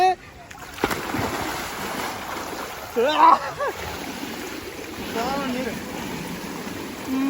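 Water splashing and falling at an outdoor rain dance by a swimming pool, a steady wash of spray broken by a louder splash midway, with people's voices calling and talking over it.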